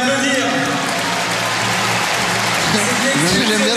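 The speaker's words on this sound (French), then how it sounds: "Ah, vous pouvez les applaudir." Audience applause, a loud continuous hiss of many hands clapping with a voice talking over it throughout.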